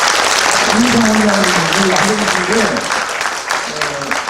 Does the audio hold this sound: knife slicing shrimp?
no